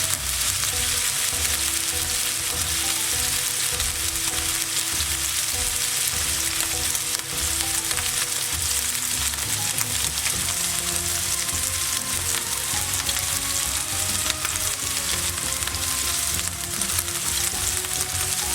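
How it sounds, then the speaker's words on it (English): Lamb meat sears in a hot pan with a loud, continuous crackling sizzle and scattered spits of fat, steady and close throughout with no voices. "if you're going to sear meat, put it in the pan, don't move it around for at least 30 seconds to a minute"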